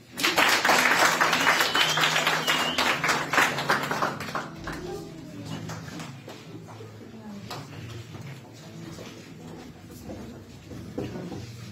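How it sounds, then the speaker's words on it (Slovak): Applause at a wedding ceremony in a church: a burst of dense clapping from a crowd that fades out after about four seconds, leaving quiet room sounds and scattered faint noises. "Potlesk."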